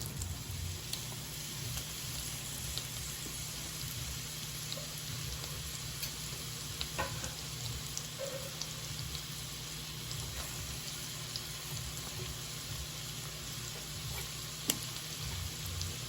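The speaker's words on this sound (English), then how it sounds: "in my pan, I have melted some butter, unsalted butter, with some olive oil. And the first thing I'm going to add are my onions." Onions sizzling and frying in melted unsalted butter with olive oil in a pan, a steady close crackle throughout with a few faint stirring clicks.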